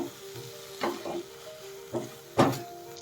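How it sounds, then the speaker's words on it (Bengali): Masala with Kashmiri chilli powder and green chilli paste sizzles steadily in a pan, with a few louder bursts of stirring and scraping over the constant frying hiss. "পুরো মশলাটা আমি ভালো করে কষিয়ে নেব।"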